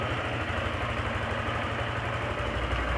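A Yamaha Sniper 155 VVA motorcycle engine running on Shell Advance Ultra fully synthetic oil drones steadily and close as the throttle is squeezed, holding a loud, even, rapid pulsing note throughout.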